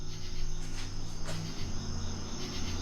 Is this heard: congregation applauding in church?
no